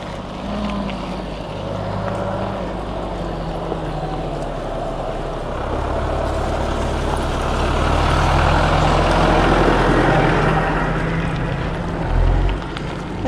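A tractor rumbles past on a gravel track, its low engine drone growing louder and nearer toward the middle before easing off, with constant rough background noise throughout.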